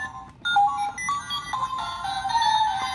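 A ToQ 6gou toy morpher plays loud electronic beeps and melodic tones after a button press, a bright run of notes up close with no talk.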